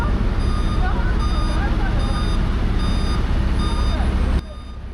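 A dump truck at a road repair site sounds its reversing alarm, a steady series of loud, evenly spaced beeps over heavy engine rumble that cut off abruptly near the end.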